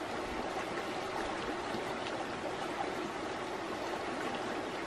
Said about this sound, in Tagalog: Nagatagas yung tubig. Galing dun sa loob.